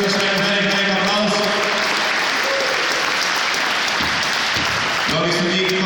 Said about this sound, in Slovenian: še en velik aplavz